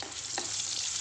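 Potatoes with turmeric and salt fry in a pan, giving a steady close sizzle with light stirring scrapes.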